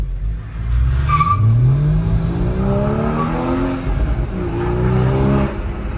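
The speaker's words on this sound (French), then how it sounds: "là on est vraiment dans le vrai son Porsche" A Porsche sports car engine revs hard while driving, rising through the gears with loud climbing engine tones and brief drops between shifts, steady and close throughout.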